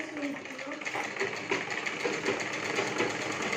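Sewing machine stitching the seams of a lehenga, a steady fast whirring hum running without pause from start to end, close and moderately loud.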